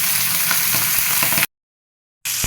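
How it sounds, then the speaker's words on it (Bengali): Two fish sizzle steadily in hot oil in a home kitchen, a dense crackling hiss with small pops that cuts out abruptly in the middle and then returns just as loud. "মাছ দুইটা দিয়ে দিলাম"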